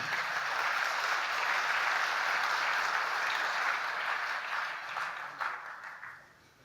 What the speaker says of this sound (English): Let's give another round of applause to HEB Construction.